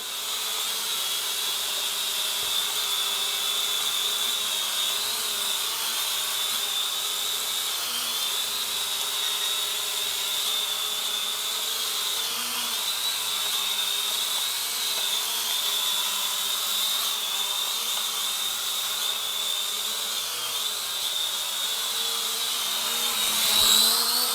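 A cheap Temu camera drone hovers and flies nearby with a constant high, whining buzz of small propellers. The whine stays loud and steady throughout and swells slightly near the end, with no talking.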